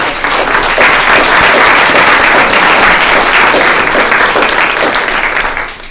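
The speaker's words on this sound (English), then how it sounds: "if we could give a big round of applause to our first years" Loud, close, sustained applause from those gathered in a student government association meeting chamber, welcoming first-year members with dense clapping that tapers slightly at the end.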